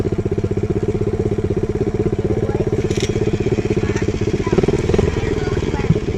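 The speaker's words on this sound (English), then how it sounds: "It's motorized vehicles in the back." A dirt bike engine drones loudly and continuously nearby with a rapid, throbbing pulse, while people talk over it.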